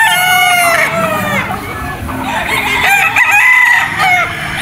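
A Super Brown Red straight comb gamefowl rooster crows loudly and close at a gamefarm, with other roosters crowing and clucking around it and someone talking over the calls.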